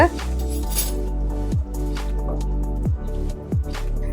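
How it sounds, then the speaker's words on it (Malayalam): A spoon stirring lime pickle in a bowl just after vinegar is poured in, making wet squishes, drips and a few sharp clinks against the dish, close up, with a voice speaking at times. "വിനാഗിരിയും കൂടെ ഒഴിച്ചു കൊടുത്ത് അത് വീണ്ടും ഞാൻ എല്ലാം കൂടെ ഒന്ന് ഇളക്കി യോജിപ്പിക്കുകയാണ് ചെയ്യുന്നത്"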